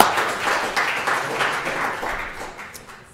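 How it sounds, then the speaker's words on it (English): Audience applause after a geology talk, a short fading burst of clapping that tapers off over a few seconds with little else around it. "One more round of applause."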